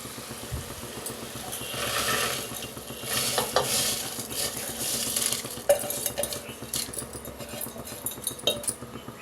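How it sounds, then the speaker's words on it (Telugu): Soaked basmati rice tipped into a pot of boiling water, with scraping and clinks of a utensil against the pot over bubbling and sizzling, irregular and close, with no talk. "ఎసరు మరిగింది ఇప్పుడు మనం నానబెట్టుకున్న బాస్మతి రైస్ వేసేద్దాం"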